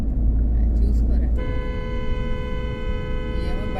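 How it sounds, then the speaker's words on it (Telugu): A vehicle horn sounds in road traffic, a long steady blare held for over two seconds over a loud, constant engine and traffic rumble. "ఎవడో హార్న్ కొడుతూనే ఉన్నాడు కదా"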